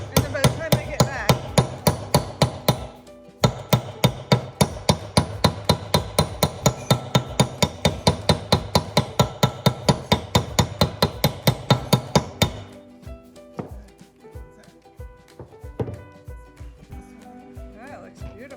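Hammering on a John Deere Gator FD620D engine during a rebuild: a long run of sharp, evenly spaced metal strikes, loud and close, that stops partway through and gives way to quieter scattered knocks.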